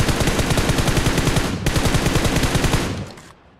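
An AKM rifle in the PUBG video game fires sustained, loud, rapid automatic bursts with a brief break in the middle before the shots cut off and fade.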